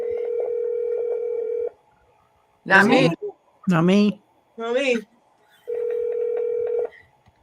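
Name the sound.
telephone ringing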